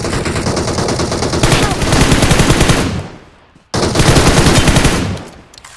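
Rapid automatic gunfire from the BGMI battle royale game crackles loudly in two sustained bursts, separated by a brief near-silent gap, close and harsh, with no talk.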